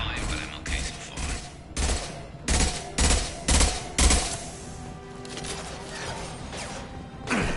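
Mass Effect 2 gameplay gunfire comes in loud bursts and volleys at uneven intervals, with quieter stretches of combat noise in between.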